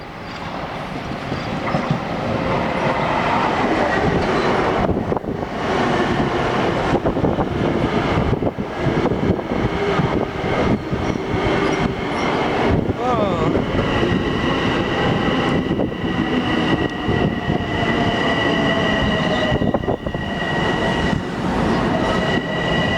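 An LIRR M7 commuter train passes at Little Neck station, a loud, sustained rumble of wheels and cars with squealing and tonal whine rising over the rolling roar for over twenty seconds.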